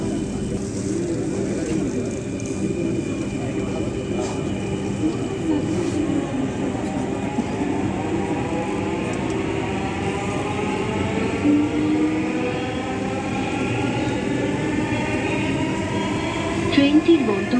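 A metro rail train bound for Uttara North runs between stations on the Farmgate to Mirpur line, heard from inside the car as a steady rumble under a traction-motor whine that climbs in pitch, with faint announcements.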